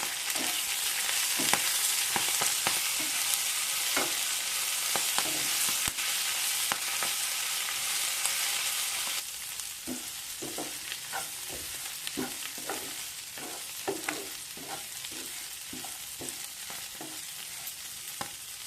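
Leafy greens fry in a pan for a broad-bean dry curry, with a steady close sizzle and a dense run of spatula scrapes and taps that goes on throughout. The hiss softens about halfway as stirring continues.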